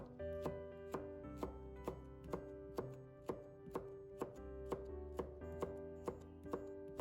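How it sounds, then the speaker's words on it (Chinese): A knife chopping a small piece of red bell pepper into strips on a cutting board, with steady, evenly spaced crisp taps close by and a faint hum underneath. "再准备1小段红椒， 把它切成条，"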